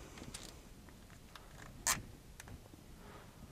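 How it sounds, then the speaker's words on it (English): A zip tie is cinched tight around the folded webbing of a Schroth racing harness in a car, giving one quick, sharp ratcheting zip partway through, with faint handling rustles and clicks around it. "Again, take your zip tie"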